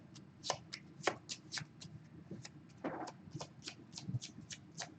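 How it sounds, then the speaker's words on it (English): A deck of Dominion cards is shuffled by hand in a live tabletop game, making a close, quiet run of rapid riffling flicks and soft slaps with small pauses between them. "I shuffle my discard, and that becomes my new draw pile"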